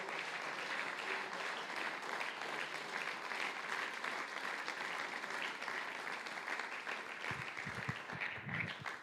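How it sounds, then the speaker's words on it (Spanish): A crowd at a church men's conference applauding steadily and loudly, dense clapping that fills the whole stretch without pause, with a few bursts of voices near the end. "Dele ese aplauso con ganas al Señor."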